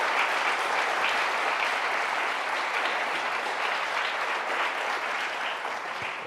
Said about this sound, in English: I'd ask for a bipartisan round of applause